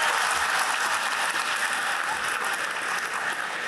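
A large crowd claps at a school convocation ceremony, producing a sustained, even wash of applause from many people, fairly close and steady throughout without any talk.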